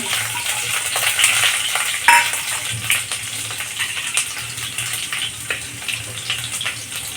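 Garlic cloves go into hot oil already crackling with cumin, making a loud, continuous sizzle close by with small pops and a brief surge as the garlic hits the pan.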